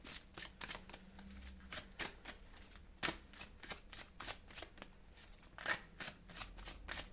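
Tarot cards being shuffled for a monthly reading, a quiet run of crisp riffling snaps and soft slides repeating steadily and close up, with no talking.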